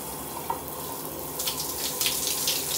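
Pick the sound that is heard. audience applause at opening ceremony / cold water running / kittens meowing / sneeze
cold water running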